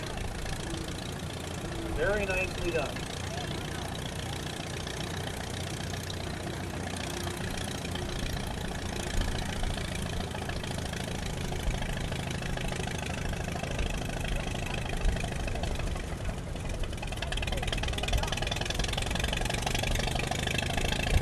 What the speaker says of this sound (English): the Jacobson turf tractor. This is kind of a golf course type tractor